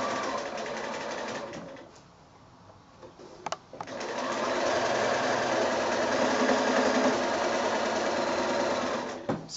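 A sewing machine stitches a quarter-inch seam around a small drawstring bag made from 6-inch quilting squares. It whirs loud and steady, stops for about two seconds, then runs on continuously.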